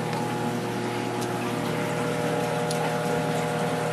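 Steady running water from the overflow of a planted clown loach aquarium, draining through drilled holes into the filter below, with a pump hum underneath; a continuous, close, even wash of trickling flow.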